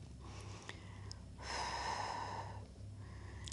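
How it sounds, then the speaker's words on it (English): Heavy, loud breaths during a barre workout, with a long exhale in the middle and quieter breathing on either side, close and alone. "Ooh, breathing, breathing."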